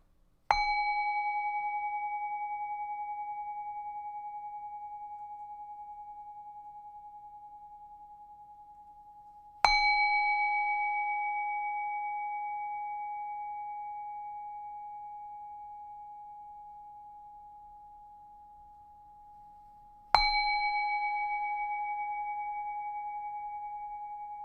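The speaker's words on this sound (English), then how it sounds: "I'm going to strike the bell and just follow the sound." A meditation bell is struck three times at roughly ten-second intervals, each clear, pure tone ringing out and slowly fading before the next strike, alone in a quiet room.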